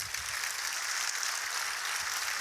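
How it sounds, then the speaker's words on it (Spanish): Audience applause at the close of a public lecture on gladiator fights, a steady dense wash of clapping held at an even level throughout. "Un aplauso, muchas gracias."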